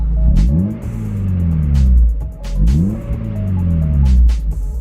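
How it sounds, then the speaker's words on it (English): A Mazda Miata engine revs twice, each rev rising sharply in pitch and then falling back to a low idle, loud and close. "Give it a couple revs."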